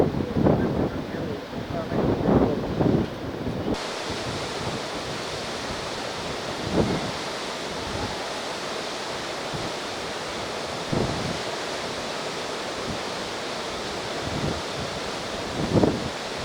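Water pours from ten open gates of the Basavasagar dam into the Krishna river, about 40,080 cusecs, making a continuous broad roaring rush with occasional louder surges and no voices.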